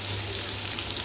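Malabar spinach frying in a pan with a hilsa fish head, giving a steady, close hiss and sizzle with no talk over it.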